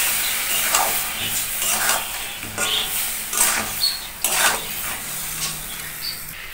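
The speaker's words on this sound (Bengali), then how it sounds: "মশলাটাকে আমি ভালো করে এখন কষিয়ে নেবো" Spice paste frying in a pan for egg biryani, a close hissing sizzle rising and falling with repeated stirring strokes and occasional pan scrapes.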